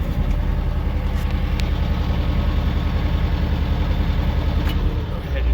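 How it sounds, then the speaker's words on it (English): A heavy diesel tractor engine idles close by, a constant low rumbling chug that runs steadily throughout without speech. "Go ahead and turn the tractor off so we're not yelling over the noise of it"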